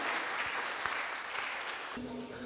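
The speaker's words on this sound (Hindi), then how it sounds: "आपकी भरपूर तालियों में सैयद शान कानपुरी साहब" An audience at a mushaira poetry gathering in Wimbledon applauds steadily with dense clapping throughout; near the end a low steady tone comes in under the clapping.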